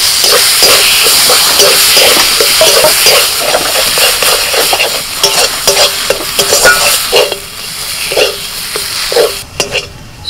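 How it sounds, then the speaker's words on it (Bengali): Fried dry red chillies stirred into ground drumstick pulp paste in a hot pan, a close, loud sizzle under rhythmic spatula scrapes that grow more irregular and fade toward the end. "এবার এই যে শুকনো লঙ্কা ভাজাটা সেটা দিয়ে দিচ্ছি।"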